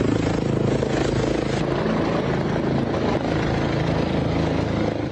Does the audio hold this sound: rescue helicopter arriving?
yes